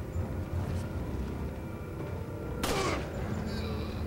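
A single sharp gunshot in the survival horror game Resident Evil 4, a brief bright crack about two-thirds through, over low rumbling game ambience.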